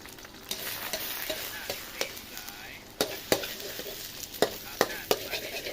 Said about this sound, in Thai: สาวดอยจะผัดไข่ให้สุกก่อน